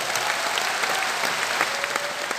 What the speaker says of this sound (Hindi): अपने लिए जोरदार तालियां बजा लीजिए